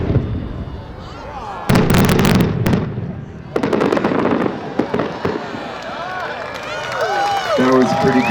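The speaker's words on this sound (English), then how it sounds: "It's a 16-inch shell of shells" A 16-inch shell-of-shells aerial firework bursts at a winter fireworks display, with loud booming breaks followed by a dense, crackling rain of smaller shell reports and pops over several seconds, with crowd noise and voices in the background.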